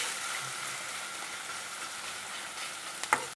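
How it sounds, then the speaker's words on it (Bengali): Chopped onion and whole garlic cloves fry together in a pan, giving a continuous soft sizzle with a brief clatter of a utensil near the end. "পেঁয়াজ আর রসুনটাকে আমি একসাথে ভেজে নেব"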